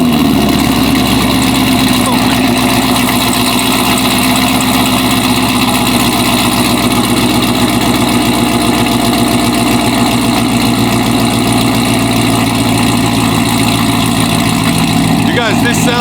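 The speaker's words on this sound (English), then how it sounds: "we're gonna do a cold start so you guys can actually hear what it sounds like with 750 horsepower" A 750 horsepower Camaro ZL1 engine on a cold start, idling in a steady, loud, low rumble with a constant drone throughout.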